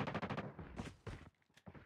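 Rapid bursts of automatic fire from a deployed sentry gun in Call of Duty Mobile during a hardpoint match, a fast rattling stream followed by a few separate shots, fairly close.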